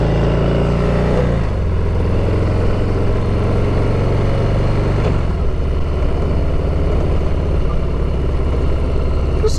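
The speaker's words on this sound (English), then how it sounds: "That's a Ducati." A Ducati motorcycle engine rumbles steadily nearby, with two shifts in pitch like gear changes or throttle changes over a constant loud drone, and no talk.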